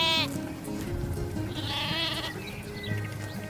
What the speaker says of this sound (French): elle voit un troupeau de moutons et elle veut avoir un agneau.